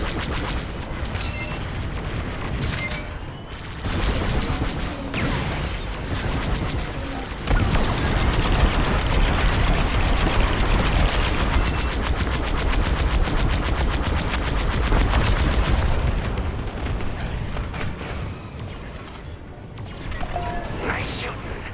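Starfighter lasers blast repeatedly in a Star Wars Squadrons space battle, loud rapid bolts firing in clusters amid booming impacts and engine roar. Voices speak over the dogfight at times.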